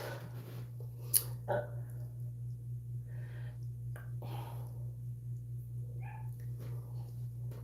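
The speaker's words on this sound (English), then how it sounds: "My dog's needing in." A dog wanting to come inside makes a few faint scratches and soft clicks against the door over a steady low electrical hum, quiet and sporadic, with no speech.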